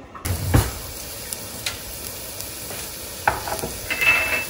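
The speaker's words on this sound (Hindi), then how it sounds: "इसको स्टोव को ऑन किया हमने और वो जो 2 टेबलस्पून के करीब ऑयल था वो हमने इसमें डाल दिया। अब इसमें हम लहसुन डालेंगे" Chopped garlic meets about two tablespoons of hot oil in a pan on a stove, giving a soft, steady frying hiss with a few light clicks and scrapes and no voices.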